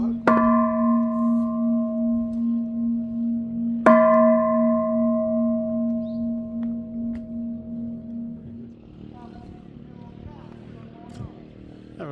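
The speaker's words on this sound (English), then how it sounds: "That little bell that you heard before," A small temple bell at a pagoda in Kanchanaburi, Thailand, struck twice, each strike ringing out with a clear, lingering tone that slowly decays, close by, with faint outdoor background after the ringing fades.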